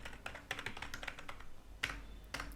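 Computer keyboard keys clatter in an irregular run of quick, fairly close taps while code is entered for a CSS grid web layout, with a few sharper strikes standing out and no voices.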